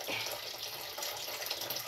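Water runs from a tap in a steady, splashy, hissing stream that stays fairly close and continues evenly without pause.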